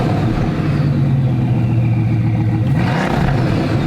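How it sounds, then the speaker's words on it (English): A Bugatti rebuilt with Volkswagen parts runs steadily, its exhaust a loud, continuous low drone that dips slightly in pitch and then rises briefly near the end, with no talking. "Let's hear what this exhaust sounds like."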